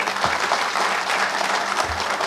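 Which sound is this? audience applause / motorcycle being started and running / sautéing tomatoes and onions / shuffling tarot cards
audience applause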